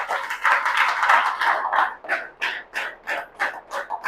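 An audience at a business talk applauds in a sustained round of clapping, dense at first and then thinning into distinct rhythmic claps, fairly loud and with no speech.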